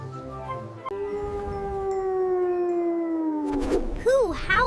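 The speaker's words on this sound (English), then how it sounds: "Who howls at the moon?" A wolf gives a long, sustained howl that slowly falls in pitch, loud and close, followed by a shorter wavering howl near the end.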